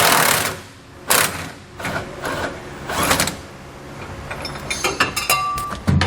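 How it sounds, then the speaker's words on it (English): A socket wrench works a bolt loose on a 2014 Ford F-250, giving a few sharp metallic clicks and clanks with brief ratcheting bursts and small tool taps, close by and separated by quiet pauses. "So I'm going to grab a socket and a wrench"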